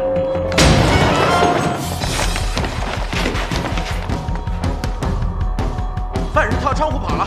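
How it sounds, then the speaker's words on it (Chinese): A door is kicked in during a Chinese wartime drama raid, producing a sharp wooden crash followed by several seconds of splintering thuds, bangs and scattered impacts, loud and close. "踹门"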